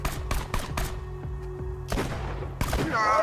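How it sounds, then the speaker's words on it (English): Sharp, punchy gunshots from the video game Borderlands 2 in a quick burst of three, then a couple more after a pause, over a low electronic hum. "I can hear gunfire and I can hear the little robot"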